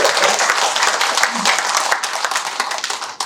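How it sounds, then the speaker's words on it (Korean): A church congregation applauds the sound engineer with steady, dense clapping from many hands, continuous and fairly loud throughout, with a few voices mixed in. "그 음향 담당 저분에게 박수 한번 쳐요"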